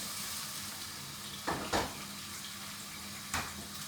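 Chopped onion and a bay leaf frying in a pan, a steady sizzle throughout with a few brief scraping stirs breaking through near the middle and end.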